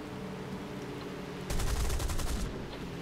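Guns of a Spitfire Mk Vb/trop firing in a flight combat game, a single rapid burst of about a second over a steady engine drone.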